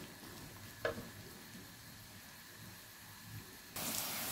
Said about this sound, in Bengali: এদিকে তেলটা দিয়ে আমি পেঁয়াজটারে ভেজে নেইলাম।